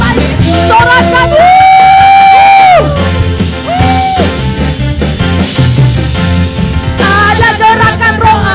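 A church congregation at a Sunday worship service cheers and shouts throughout, the loud, continuous crowd sound blending with a worship band's music and singing.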